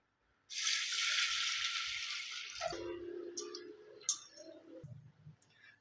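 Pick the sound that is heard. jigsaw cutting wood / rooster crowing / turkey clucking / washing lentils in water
washing lentils in water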